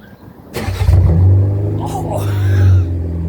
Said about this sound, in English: fire up and see what it sounds like without the back box